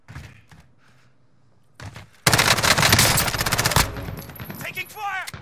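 Call of Duty Warzone gunfire erupts as a loud, dense rapid burst of automatic shots after a quiet start with a few thuds, easing into scattered game noise and a voice at the end.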